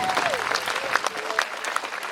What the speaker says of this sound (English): a big round of applause for the people who put it together today